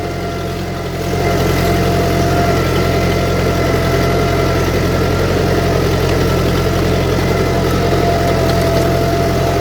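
A village tractor engine runs at a steady idle close by, a loud, continuous low rumble with an even mechanical throb that starts slightly quieter and then holds constant throughout.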